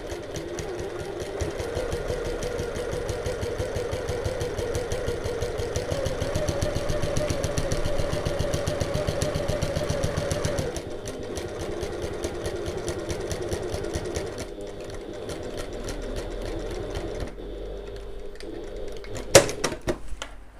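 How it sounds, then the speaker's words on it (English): A sewing machine runs steadily, stitching a seam along the zip top of a fabric bag, its close, rapid mechanical whirr continuing for about fifteen seconds before slowing and stopping, followed by a brief sharp click. "we're going to stitch at 1/8 of an inch or 3mm away from that seam on the zip top side"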